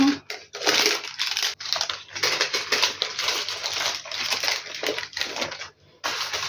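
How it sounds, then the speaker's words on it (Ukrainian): Crisp crinkling and crackling of parchment paper being peeled off a sponge cake, irregular rustles with brief pauses, close up and fairly quiet. "Знімаємо пергамент з нього."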